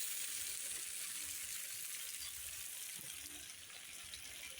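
Potatoes and onion flower stalks fry in a pan over gentle heat, giving a soft, steady, continuous sizzle that stays faint and even with no voices over it.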